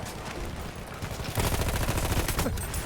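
Dense, continuous gunfire in the World War I shooter Battlefield 1, with rapid overlapping shots that swell louder and more rhythmic halfway through as a nearby weapon keeps firing.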